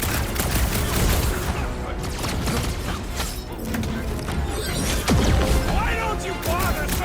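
Gunfire from shooting in the Guardians of the Galaxy video game, a loud continuous barrage of shots and crashes mixed with game effects, with voices talking over it throughout.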